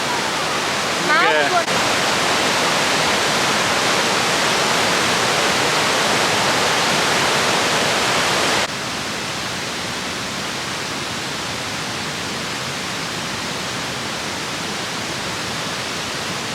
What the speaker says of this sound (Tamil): எங்கே ஃபால்ஸ் தெரியுதா? பின்னாடி ஃபால்ஸ் இருக்கு.